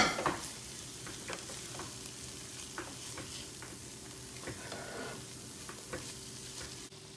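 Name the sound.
stirring fresh spring onions into cauliflower jollof rice, sizzling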